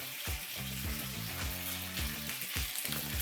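Meat sizzling hard in a hot pan, weighed down by a foil-wrapped brick or cinder block, a loud, constant crackling fry under a pulsing, tonal hum with a few brief dips.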